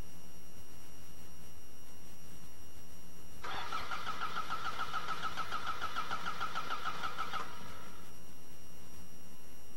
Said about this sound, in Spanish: Ahora arranquemos el motor